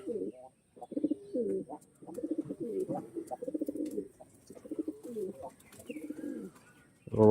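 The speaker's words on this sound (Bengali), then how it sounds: "এটা খোলা লেজের পায়রা" An open-tailed pigeon coos in repeated low, throaty phrases, close and fairly loud, with a few faint chirps from other birds in the background.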